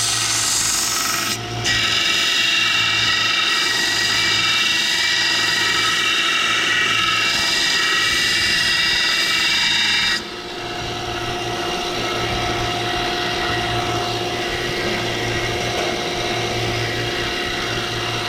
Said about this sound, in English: So you sand it till that's not there anymore.